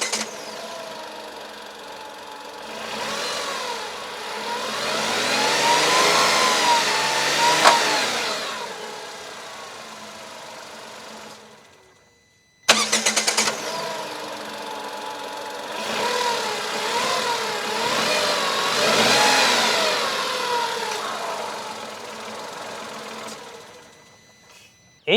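The 3-cylinder petrol engine of a Tata Punch starts up and is revved twice. Each run climbs and falls in a loud, rising and sinking hum, with a brief cut to near silence between the two and no talk over them.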